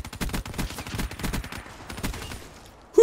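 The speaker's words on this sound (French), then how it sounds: "Qui c'est qui me tire dessus là?" Rapid bursts of automatic gunfire from the video game Black Ops 3 come in quick rhythmic strings, loud and close, then fade out near the end.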